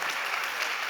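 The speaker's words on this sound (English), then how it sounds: "Come on, big applause for him." Brief burst of dense audience applause after a startup competition pitch, loud and steady, with no talk.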